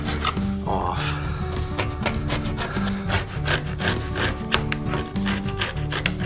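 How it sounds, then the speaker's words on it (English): A paint scraper strips reflective tape from the side of a school bus in a quick run of harsh, close scraping strokes over a tonal hum in the background. "to get rid of this reflective stripping, we're going to start out with a paint scraper"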